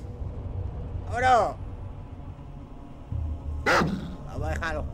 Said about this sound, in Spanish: Vamos a dejar a los perros atacando